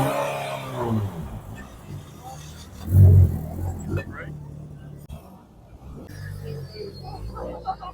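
An Audi TT RS rally car passes during the Targa Tasmania tarmac event, a low engine rumble swelling to a brief loud peak as it goes by, then fading, with spectators talking over much of it.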